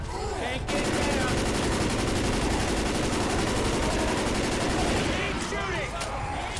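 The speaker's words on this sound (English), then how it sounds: "Keep shooting." Sustained automatic gunfire in a shooter game hammers loud and steady for several seconds, the rapid shots blending into a dense roar, then thinning out near the end as a voice speaks faintly.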